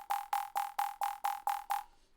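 A bright synth lead layered with white noise plays eight quick, evenly spaced staccato hits at one pitch, each decaying fast, then stops. The notes are clean and isolated with no talking.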